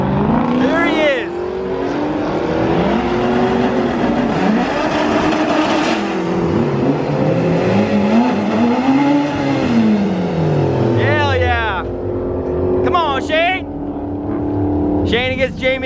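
A truck engine revving hard and rising and falling in pitch as the Kole Truck makes laps, loud and sustained, with voices talking over it.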